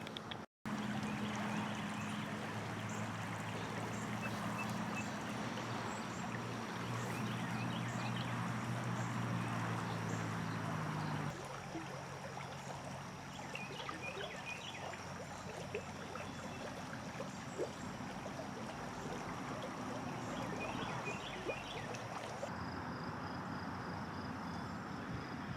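A creek flows continuously at a steady, moderate level, a broad rushing wash of water with faint chirping insects or birds layered above it and no voices.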